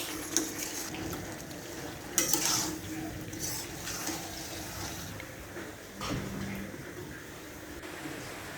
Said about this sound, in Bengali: মাংসটা কষাইতেছে